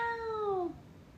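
A child imitates a cat's meow with one drawn-out, falling, nasal call lasting under a second, fairly close, followed by quiet room tone.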